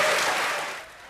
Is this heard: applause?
yes